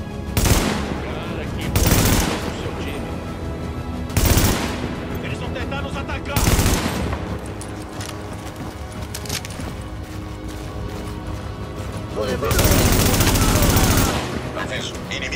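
Bursts of rapid automatic gunfire from the video game Tom Clancy's The Division on Xbox One, loud volleys recurring every couple of seconds with a longer sustained burst near the end, amid dense game noise.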